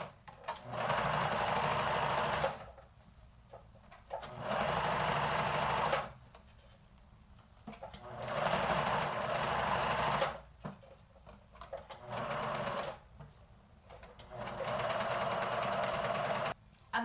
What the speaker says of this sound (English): Now we're just going to sew all the way around with 3 centimeters seam allowance